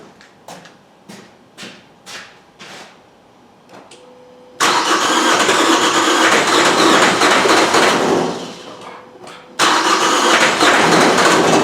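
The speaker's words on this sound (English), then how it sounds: "and now I'm going to crank the engine." A Vauxhall Astra J with an A17DTJ diesel engine in a no-start condition clicks and rattles in short bursts, then cranks loudly in two long, sustained stretches with a brief gap between them.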